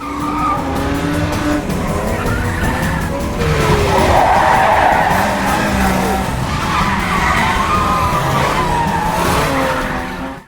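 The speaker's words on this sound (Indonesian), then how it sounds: "Tentu aja John dan Max pun segera kabur hingga terjadi aksi kejar-kejaran di antara mereka" Cars skid and squeal their tires through a movie car chase, with loud, continuous engine roar and screeching rubber throughout.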